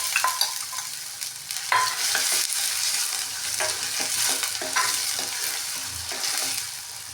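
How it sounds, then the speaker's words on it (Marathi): Chopped onion frying in hot oil in a pan while being stirred for a boiled egg masala, a steady close sizzle broken by repeated scrapes and clacks of the spoon, with no talking. "सर्वप्रथम आपण तेलामध्ये कांदा टाकून घेऊयात"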